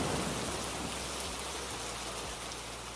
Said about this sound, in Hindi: झमाझम बारिश होने लगती है।